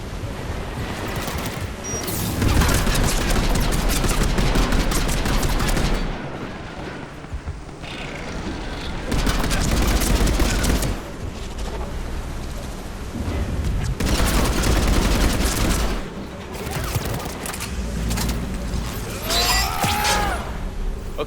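Sustained bursts of automatic gunfire in the sci-fi shooter Mass Effect 3, loud and dense, coming in waves of several seconds separated by quieter lulls, with booming impacts and a rising whine near the end.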